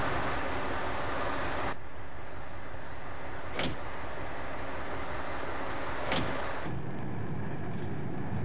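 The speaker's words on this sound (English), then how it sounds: "a through Bolton Liverpool DMU approaches Kirkby" Bolton–Liverpool diesel multiple unit train approaching Kirkby station, a steady rumbling drone of engine and wheels with a couple of sharp rail clicks as it draws nearer, ending in a lower, duller roll.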